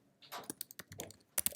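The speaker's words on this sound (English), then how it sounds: "So I'm just typing out a note here." Rapid keystrokes on a computer keyboard, a quick irregular run of close, crisp clicks with a few louder taps near the end, with no voice over them.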